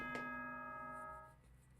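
The nighttime announcement chime from the Danganronpa: Trigger Happy Havoc video game rings as a single bright bell-like tone that rings out and fades over about a second, fairly quiet.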